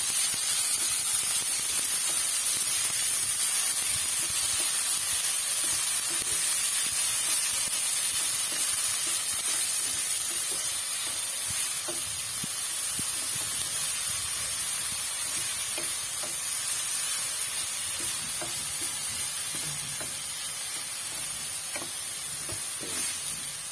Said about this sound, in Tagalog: Gisa-gisa lang natin yung giniling nyo para medyo lambot.